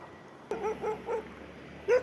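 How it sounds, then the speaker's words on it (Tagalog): Several short dog barks or yips sound at moderate distance, three quick bursts in a row followed by one louder bark, heard outdoors on a rocky shore during night gathering of shellfish and sea creatures. "Nabatok na tayo ng aso."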